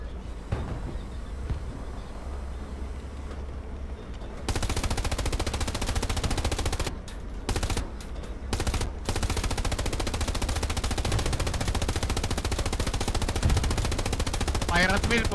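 Sustained machine gun fire in Hell Let Loose, the WWII shooter, with a Panzer IV tank crew: a dense, continuous rattle of rapid bursts that grows louder partway through and carries on to the end, with voices talking over it.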